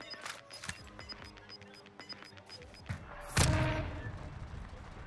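Scattered gunshots from Call of Duty: Modern Warfare crackle through a busy match, with a sharper, louder burst near the end standing out against the background clatter.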